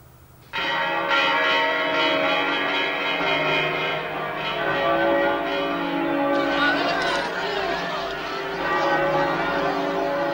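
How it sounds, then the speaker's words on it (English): Church bells peal continuously at the close of the Spanish Civil War, loud and full, with overlapping ringing tones that sustain without pause. "The church bells began to ring."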